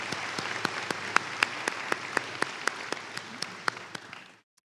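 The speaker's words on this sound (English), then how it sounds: "Let's give them a round of applause." Audience applauding at a winter college commencement ceremony, a dense wash of clapping in a large hall with distinct sharp claps standing out, ending abruptly.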